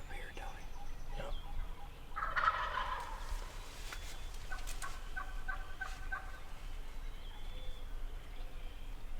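Wild turkeys gobble in an Iowa field during spring, a distant rattling gobble followed by fainter trailing calls over a steady outdoor background.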